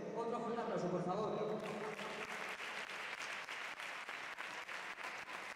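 Audience at a youth sports association presentation in Almudévar applauds, a steady round of clapping that starts as voices fade and continues evenly, moderately loud with a faint rhythmic pulse.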